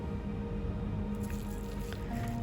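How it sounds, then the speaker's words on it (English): Seasoned pork mince with salt, soy sauce, sesame oil and white pepper being stirred for soup dumplings, a continuous wet squishing and churning, close and steady with no talk. "we give it a good stir"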